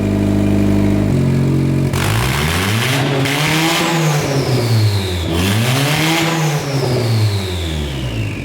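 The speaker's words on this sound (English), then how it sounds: "This thing's actually idling really nicely." Turbocharged Honda Civic D-series engine with an open turbo, idling steadily and then revving up twice in rising and falling sweeps, loud and close, with turbo whistle climbing over the revs.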